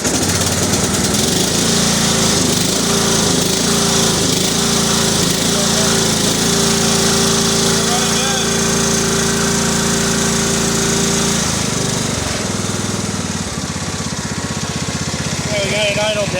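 A Murray riding mower's small engine runs loud and close, idling steadily with a rough, rattling drone that barely changes through the whole stretch.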